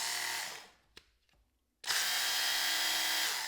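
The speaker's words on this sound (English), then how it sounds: "you just sharpen. And of course, you use the higher speed" Work Sharp knife and tool power sharpener running at high speed, a loud whirring grind that winds down, pauses with a faint click, then surges back to full speed and holds steady.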